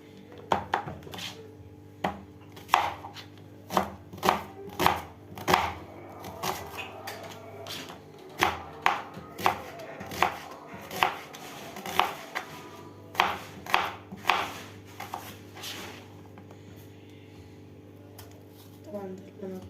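Knife chopping a peeled onion into wedges on a cutting board in a home kitchen, a steady series of sharp close knocks over background hum, tapering off toward the end.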